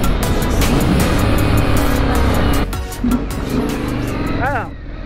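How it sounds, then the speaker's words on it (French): Indian Scout 1200 dirt track motorcycle with a homemade exhaust and Supertrapp silencer, a loud, close, throaty engine rumble that dips briefly, picks up again, then cuts away near the end, with someone talking over it. "on a un échappement Hodmade, donc fait maison, avec un silencieux super trap, et on a une super belle sonorité."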